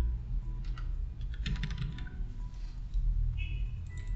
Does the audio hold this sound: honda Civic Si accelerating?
no